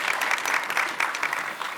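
Audience applause at an expo reception, a dense, steady burst of clapping that fills the short moment without any voices.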